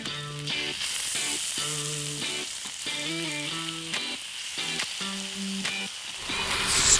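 Ground beef with garlic and grated ginger fries in a hot pan, a steady close sizzle and hiss running continuously beneath background music.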